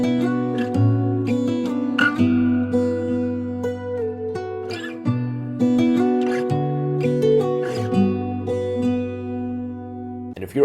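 Stereo acoustic guitars panned left and right, with an acoustic guitar preset applied to all of them, play a steady plucked melody with sustained low notes for about ten seconds without voices.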